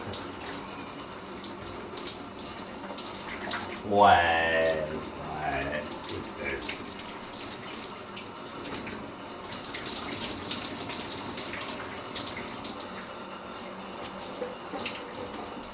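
Water running in a home shower, a steady broadband hiss that holds throughout, with a brief louder burst near the middle where a voice speaks.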